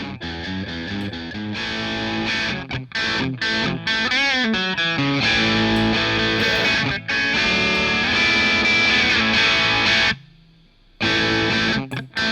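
Electric guitar through an Amplitude plugin emulating a Boss DS distortion pedal with the drive dialed back, a loud crunchy riff of chords and bent notes that stops briefly near the end and then resumes.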